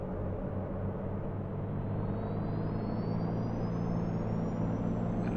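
A simulated Cirrus SR22 piston aircraft engine drones steadily as power builds for takeoff, a continuous rumbling roar with a faint whine slowly climbing in pitch, close and unbroken, with no talking.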